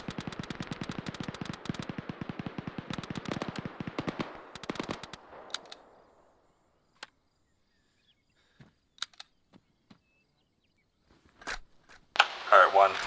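Rapid bursts of heavy automatic gunfire in a military shooter game, dense and loud for several seconds, then fading to scattered single shots and a closing flurry of sharper noise.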